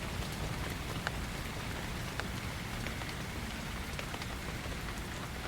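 Steady rain patters on leaves and ground in a forest, a dense, even hiss with occasional sharper drops and no voices.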